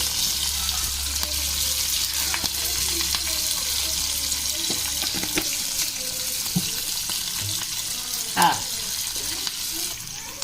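Loud, steady sizzling of onions and chillies frying in oil, close by, with occasional stirring clatter and a brief louder clunk.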